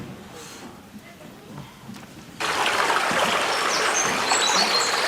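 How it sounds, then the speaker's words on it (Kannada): A large waterfall roars loudly and steadily. It comes in abruptly about halfway through, after a quieter outdoor stretch, and keeps up a constant rushing hiss. "ಇಲ್ಲಿ ಇಷ್ಟು ದೊಡ್ಡ ಜಲಪಾತ ನೀರು ಹರಿತಿದೆ ಇಲ್ಲಿ"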